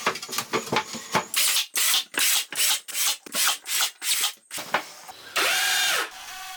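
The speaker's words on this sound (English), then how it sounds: "Here I'm attaching some piano hinges to make a fold-out bed from the front of the couch." Piano hinges being screwed onto 3/4 inch plywood for a fold-out camper couch bed, heard as a series of short, loud bursts from a power drill or driver, close by, followed by one longer sustained run.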